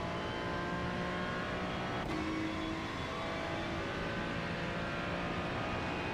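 The Ferrari 296 GT3 race car engine at Mexico City in iRacing drones steadily at moderate loudness, its pitch shifting as the throttle opens again at the apex, with a brief gear-change blip partway through.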